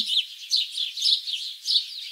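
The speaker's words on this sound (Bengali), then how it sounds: "ভাইয়া দেখো, পাখিগুলো কি সুন্দর আকাশে উড়ছে।" Cartoon birds chirp in quick high-pitched bursts, several twittering calls repeating every half second or so, clear and alone with no talking.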